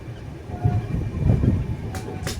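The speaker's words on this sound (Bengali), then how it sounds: "আমাদের ট্রেন এখন নিউ ফারাক্কা জাংশন ছেড়ে বেরিয়ে যাচ্ছে।" The Kanchankanya Express pulls out of New Farakka Junction at night, giving a low rumbling carriage drone with soft wheel clatter, heard from inside the train and fairly quiet.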